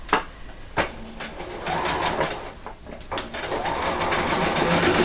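A sewing machine stitches fabric for vet scrubs, running in short bursts that start and stop as it goes back and forth over the seam several times, with brief pauses and clicks between runs.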